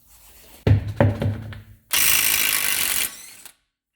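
A socket and ratchet loosen a wheel on a 2016 Subaru Impreza: a few heavy knocks and clunks, then a loud, steady mechanical whirring for about a second and a half before it stops.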